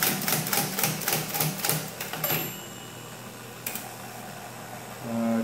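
An IBM Electromatic typewriter, just after a space bar repair, taps out a rapid, even run of close mechanical strikes that fades into quieter machine hum with a lone later clack.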